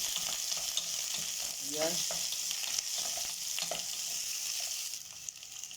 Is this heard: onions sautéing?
yes